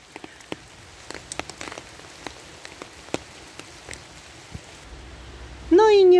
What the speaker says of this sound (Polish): No ale już ten deszczyk zmalał.